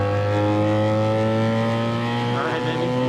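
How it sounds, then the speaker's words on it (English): A BMW R nineT Cyber Bike motorcycle engine runs loud and close, a steady deep drone with rich harmonics and a slight rise in revs near the end. "This bike is loud."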